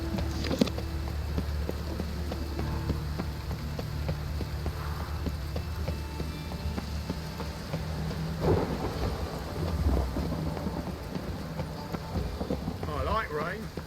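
Steady rain with low rumbles of thunder rolling in the background in The Witcher 3 video game, a continuous ambient storm bed with a few louder swells.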